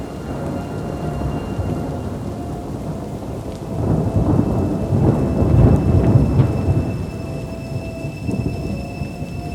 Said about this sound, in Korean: 어디선가 천둥 소리가 들려왔다